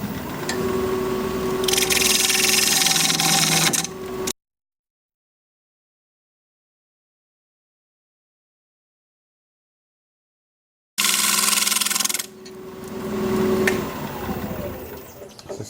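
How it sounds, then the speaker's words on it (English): A wood lathe spins a live edge cherry-plum bowl at 1280 RPM, with a steady motor hum and rubbing, scraping cuts, broken by a long stretch of silence in the middle. "I'm still going to be turning at 1280 RPM. I'm going to remove the center part here"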